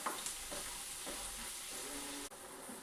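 Prawns fry in a pan over a high flame for prawn biryani, giving a steady, close sizzle with faint stirring scrapes throughout.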